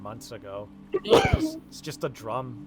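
One loud, sharp sneeze from a person breaks into ongoing conversation, with speech before and after it.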